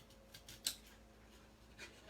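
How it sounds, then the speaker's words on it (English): A single quick snip of scissors cutting a paper frame from stamped paper art, faint and brief amid quiet room background. "Cutting the frame out."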